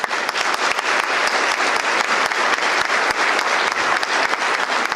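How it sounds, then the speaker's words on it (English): Audience applause for Board of Education members at a Douglas-Coffee County Chamber of Commerce annual event: loud, dense, sustained clapping from a large crowd, steady for the whole stretch with no voices. "I want to give a round of applause for our Board of Education members."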